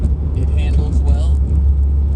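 A 50-year-old Datsun 240Z drives along, its engine a steady low rumble heard from inside the car while a person talks over it.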